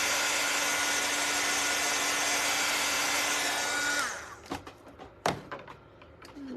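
A hair dryer drying thick white paint on a Valentine gnome craft whirs steadily and loudly for about four seconds, then cuts off, followed by a few knocks and handling sounds.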